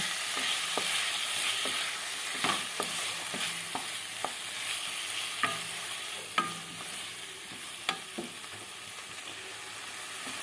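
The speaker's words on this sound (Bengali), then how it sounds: "এবার দিয়ে ভালো করে নাড়িয়ে চাড়িয়ে নেব" Spices for a tangra fish curry fry in a pan with a soft, steady sizzle, while a spatula scrapes and taps at irregular intervals, several sharper clicks standing out; fairly quiet, with no voices.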